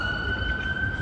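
An ambulance siren holds a steady wail on a crowded city street on the night after Halloween, continuous and fairly close over a low rumble of street noise.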